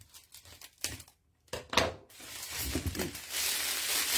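Scissors cutting craft material for a Christmas decoration, with crisp snips, tearing and crinkling bursts, a short pause, then continuous rustling handling up close.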